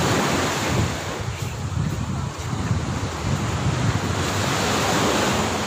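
Ocean waves wash continuously with a broad, rushing roar in monsoon weather, mixed with wind buffeting the microphone.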